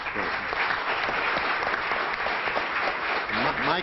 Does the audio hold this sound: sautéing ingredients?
no